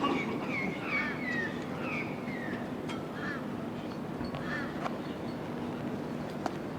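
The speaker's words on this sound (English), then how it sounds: "All the birds, you can certainly hear them chirping away." Outdoors at a bowls green during a world championship men's fours final, wild birds call from nearby, making repeated short descending squawks and honks over a steady background murmur.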